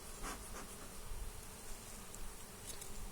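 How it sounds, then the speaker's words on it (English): Dense, steady buzzing of many bees close by, a continuous swarming drone with no voices. "I just had some angry bees"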